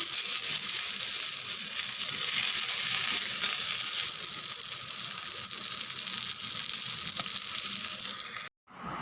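Pomfret fish fries in hot oil with a loud, steady, close sizzling hiss that runs unbroken for several seconds, then cuts off abruptly near the end.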